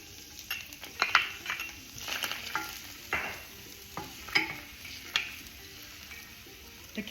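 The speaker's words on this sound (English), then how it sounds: "So in the heated oil, we're going to add the shallots," Shallots sautéing in heated olive oil in a pan give a steady, soft sizzle, with scattered clinks and scrapes of a utensil stirring against the pan throughout.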